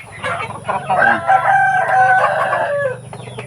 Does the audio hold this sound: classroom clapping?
no